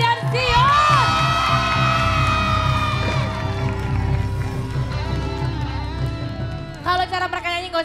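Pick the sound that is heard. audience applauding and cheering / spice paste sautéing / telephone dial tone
audience applauding and cheering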